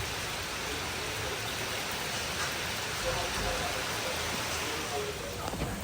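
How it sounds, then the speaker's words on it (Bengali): Heavy rain falling outside a home in cool weather, a continuous dense hiss of drops on surfaces, steady and fairly loud throughout with faint voices now and then beneath it. "বাইরে কি দারুণ বৃষ্টি পড়ছে আর ওয়েদারটা একদম ঠান্ডা হয়ে গেছে"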